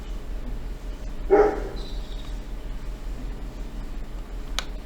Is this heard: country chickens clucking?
no